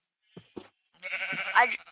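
Minecraft sheep bleating in a video game: two short bleats, then a longer wavering bleat that rises near the end, fairly close and clear with no talking.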